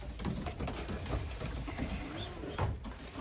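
Pigeons coo softly and repeatedly in a settling cage, a low burbling chorus close by with faint rustling and no talk.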